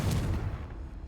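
A Confringo blasting spell goes off in Hogwarts Legacy, a single low, rumbling burst that hits hard at the start and then decays over about a second, close and fairly loud.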